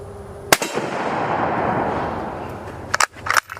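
A single sharp gunshot from a light, sporterized 6.5 Carcano carbine, followed by a long rolling echo that fades over a couple of seconds, then a few quick metallic clicks and clatters of the action being worked.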